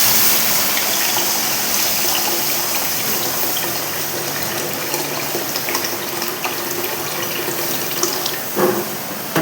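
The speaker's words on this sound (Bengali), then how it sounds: "এখন কড়াইতে আমি জল দিয়ে দেবো।" Water gushes steadily from a tap into a wok set over a wood fire after moong dal has been lightly fried, a loud continuous splashing pour lasting several seconds with no voices.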